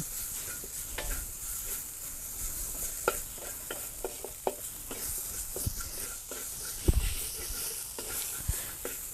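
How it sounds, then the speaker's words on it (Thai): Garlic stir-frying in a little oil, a steady low sizzle with scattered sharp clicks and scrapes of a spatula against the pan, close and fairly quiet with no voices. "น้ำมันใส่นิดหน่อยพอเพื่อต้องการผัด ตัวกระเทียมนี้ให้มันหอม"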